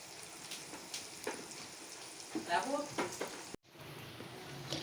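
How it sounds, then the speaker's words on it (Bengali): Flat bean seeds frying in a pan, a soft sizzle with scattered pops and stirring scrapes, fairly quiet, broken by a brief dropout near the end. "এখন আমি সিমের বিচিটাকে ভেজে নিচ্ছি"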